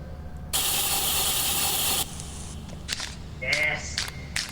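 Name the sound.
spray painting in Lethal Company video game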